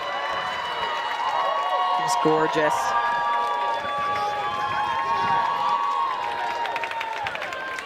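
A rugby crowd cheers and whoops at a USA Rugby Club 7s Championship match in the Midwest, a steady roar under continuous commentary with a brief burst of clapping in the middle.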